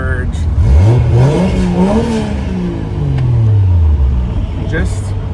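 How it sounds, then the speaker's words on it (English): A 1JZ-swapped RX7 with a Tial Q blow-off valve revs up and falls back in a single smooth sweep, followed by a short sharp venting hiss near the end. "Just nice, clean blow-off valve."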